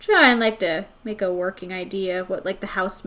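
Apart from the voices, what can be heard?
No everyday noise stands out behind the speech.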